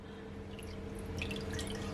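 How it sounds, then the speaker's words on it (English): A small amount of water drips and trickles into a ketchup-based sweet chilli sauce for baked jerk chicken, a faint, close, steady splashing with a quiet room hum beneath. "So I'm just adding some more water to loosen it up."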